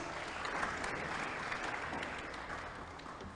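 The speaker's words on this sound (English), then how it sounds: "Ladies and gentlemen, please give them a round of applause." Audience applause at an academic debate between university teams, a dense, steady wash of clapping that holds evenly throughout without breaks.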